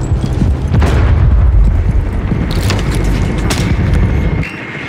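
A grenade explosion in Rainbow Six Siege, with a heavy, close boom that rumbles on for several seconds with debris-like crackle before cutting off abruptly near the end.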